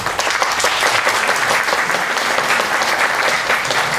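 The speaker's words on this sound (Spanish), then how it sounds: "Les pido un fuerte aplauso de bienvenida." Loud, sustained applause from a lecture audience welcoming a speaker, dense even clapping filling the whole stretch without letting up.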